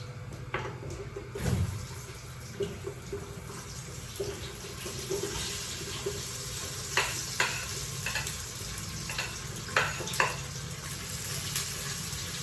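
Chopped onions drop into hot oil with whole spices for beetroot rice, frying with a steady crackling sizzle, scattered sharp pops and stirring clatter, close and continuous with no talk.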